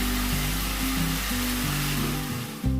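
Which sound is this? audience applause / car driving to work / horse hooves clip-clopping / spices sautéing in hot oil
spices sautéing in hot oil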